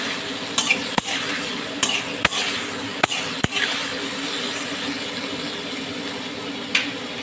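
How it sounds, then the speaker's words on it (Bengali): A spatula stirs tomato chutney in a pan, giving a low continuous sizzle punctuated by a handful of crisp metallic taps and scrapes, close by and with no talking. "এবার একটু খুন্তি দিয়ে নাড়াচাড়া করে দেবো।"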